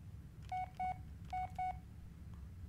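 Four phone keypad tones from the Blair Witch video game, in two quick pairs, clear and close against a low background hum, with no talking over them.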